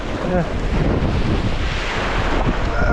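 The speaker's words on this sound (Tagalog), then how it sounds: "malalaki yung alon" Loud, continuous surf roar of big waves with wind buffeting the microphone, waves churning close by without a break, heard while fishing from the shore.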